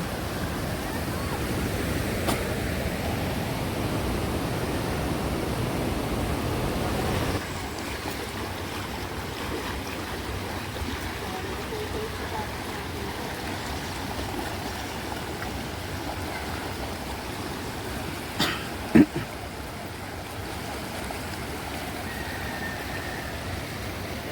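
Steady broadband rush of river water during a river crossing on the way to Puray Falls, continuous throughout and shifting slightly in tone partway, with brief faint knocks near the end and no talk.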